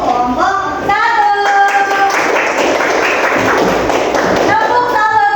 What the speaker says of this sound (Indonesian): bisa berikan tepuk tangan untuk kelompok 1